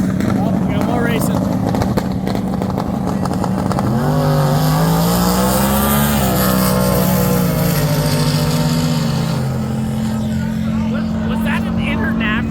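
An International truck drag racing roars close by, its engine pitch climbing and falling through gear changes over several seconds, with crowd talk underneath.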